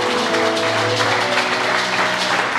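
A church congregation claps and cheers in praise, with dense, sustained applause and a held musical tone underneath throughout.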